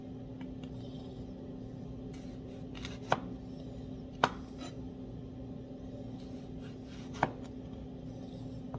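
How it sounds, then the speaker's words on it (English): A knife slices through food on a cutting board in a quiet kitchen, three crisp, isolated cuts spaced a second or more apart over a faint background hum. "really I'm just going to slice like a piece or two"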